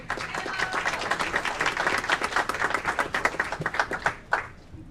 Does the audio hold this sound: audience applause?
yes